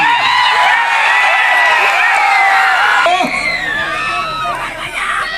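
A large outdoor crowd at a village wrestling match roars and cheers loudly and without a break, with shrill whoops and whistles cutting through. Voices in the crowd shout over the din, and it eases only slightly toward the end.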